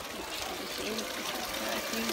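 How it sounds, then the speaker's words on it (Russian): Water runs through decorative features at a hotel reception at the Inaya Putri Bali resort, making a soft, steady rushing hiss with a voice faintly over it. "Здесь еще вода."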